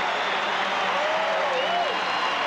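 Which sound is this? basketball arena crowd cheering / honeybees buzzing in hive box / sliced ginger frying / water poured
basketball arena crowd cheering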